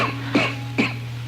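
Two short, close human coughs about half a second apart, harsh and breathy, from a man with a persistent cough, over a steady low hum.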